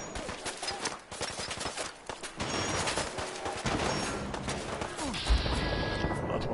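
A gun battle at Bunker Hill in Fallout 4 on survival difficulty: rapid volleys of gunshots and sharp cracks, near and far, crowd the scene while a voice talks in between.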